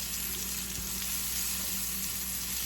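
Eggplant, onions and cherry tomatoes sizzle and fry in butter in a pan, with a steady, dense crackle and faint stirring underneath, continuous and close throughout without speech.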